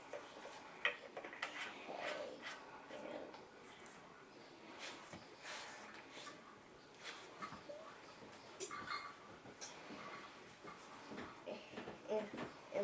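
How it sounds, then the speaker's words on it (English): Fork mixing banana bread batter in a bowl, quiet and close, with quick irregular clinks and taps against the bowl and soft wet stirring in a continuous busy rhythm. "And we're just gonna mix it till it seems well combined."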